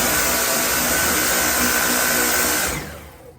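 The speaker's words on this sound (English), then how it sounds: "Another feature of the vacuum is it has two speeds." A Dyson V8 Origin cordless stick vacuum runs at maximum speed, a loud steady high-pitched whine and airflow roar that holds level for nearly three seconds, then winds down and fades.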